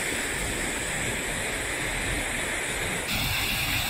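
A large volume of city runoff pours into a spillway bowl in Goryachy Klyuch, southern Russia, a loud continuous rushing roar of water heard alone and steady throughout.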